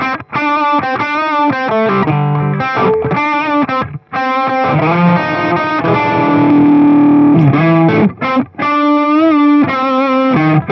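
An electric guitar played through a Boss FBM-1 Fender Bassman pedal, loud and overdriven, strikes chords and short riffs with clear gaps between phrases, then rings out into sustained notes.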